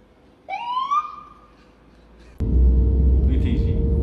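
A police car siren gives a short rising wail, then a louder burst of noisy, close sound follows.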